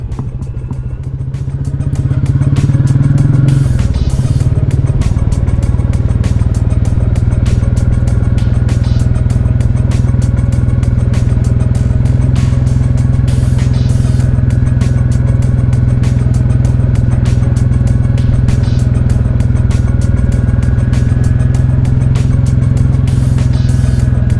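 Royal Enfield Classic 350 engine holding a low steady drone while engine braking down a 14% decline, with rhythmic ticking and clatter over the top, loud and close.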